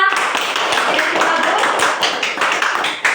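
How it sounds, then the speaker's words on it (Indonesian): Students in a classroom clap together for a classmate, a dense, steady patter of many hands filling the room close by. "Oke, tepuk tangan untuk teman kita."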